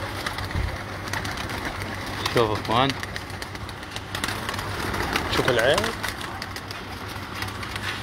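Two soft pigeon coos sound close by under someone talking, with a low engine hum running through the background.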